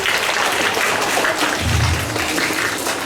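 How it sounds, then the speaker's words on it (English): A school assembly audience claps for a class of children, a steady broadband wash of applause that continues evenly and fairly loud throughout with no voices over it. "Let's give them a big round of applause"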